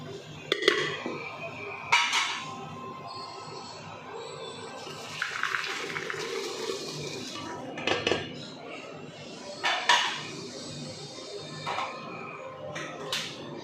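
Cooked eggplant is moved from one cooking pot to another, with metal clanks, a ladle scraping and tapping the vessels, and soft wet plops in irregular bursts close by.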